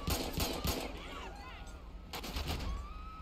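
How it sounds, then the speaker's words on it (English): Gunfire in GTA 5 during a police gang-unit patrol: a rapid burst of loud, close shots crackles in a dense cluster early on, then another volley follows after a short pause. "Shots fired."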